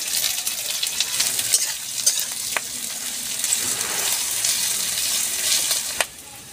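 Garlic, onion and two slit green chillies fry in oil in a hot kadai, a loud, even sizzle with a few light utensil clicks before it cuts off sharply near the end.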